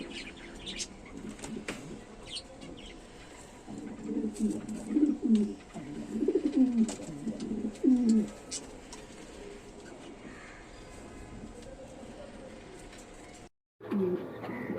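Black Sirazi and Danish pigeons in a loft coo repeatedly at close range, with soft rolling calls, scattered chirps and brief wing flaps over a steady background hum.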